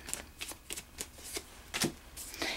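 Tarot cards are shuffled by hand in a quiet room, a series of short, crisp riffling bursts spaced irregularly, close and fairly soft, with no talking.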